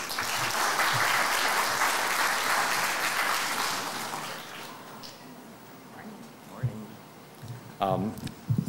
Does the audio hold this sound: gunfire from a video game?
no